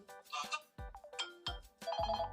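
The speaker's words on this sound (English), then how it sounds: "Let me show you guys some of the ringtones in this phone." Ringtone preview on a Vivo S9 smartphone: a bright, melodic electronic tune of several plucked-sounding notes in quick succession, clear and close with nothing else audible.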